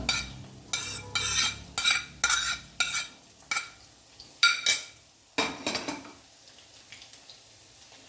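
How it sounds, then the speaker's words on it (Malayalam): A spoon clinks and scrapes against a pan while scrambled egg is mixed into egg rice, producing about a dozen close, rhythmic stirring strokes that thin out toward the end. "ഇനി നമ്മൾ നേരത്തെ സ്ക്രാമ്പിൾ ചെയ്തിട്ടുള്ള എഗ്ഗും കൂടെ ഇതിലേക്ക് ചേർത്ത് കൊടുക്കുകയാണ്"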